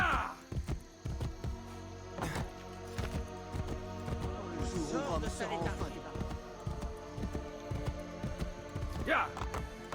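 Rhythmic hoofbeats of a horse clip-clopping along in Assassin's Creed Brotherhood, with a brief whinny and game sounds in the background.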